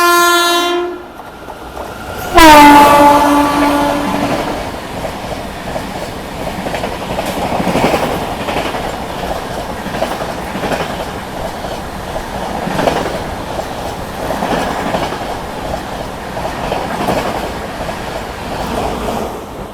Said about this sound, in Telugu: so Thiruvananthapuram north Cherlapally Amrit Bharat express